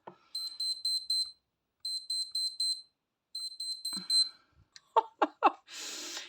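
A plugged-in lamp's timer sounds three quick bursts of high, electronic beeps separated by brief pauses, followed by a few soft knocks and a short rustle nearby.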